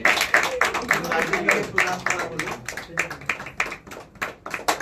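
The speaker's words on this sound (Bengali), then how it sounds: "জোরে হাততালি" A crowd claps loudly during a certificate presentation at the birthday celebration of Naihati Rangasena at Rangakuthi. The claps come as sharp, irregular bursts while a voice speaks over them.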